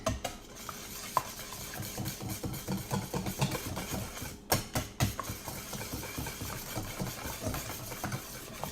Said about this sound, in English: Let's give this a little whisk.